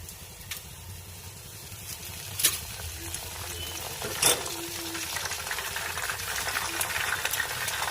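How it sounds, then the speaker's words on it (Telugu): Curry leaves dropped into onions frying in oil for a hair-care preparation: a steady, low sizzle throughout, with a couple of brief, sharp crackles as the leaves hit the hot pan. "ఉల్లిగడ్డ కూడా కొంచెం ఫ్రై అయిపోయింది. కరివేపాకు వేసేస్తున్నా."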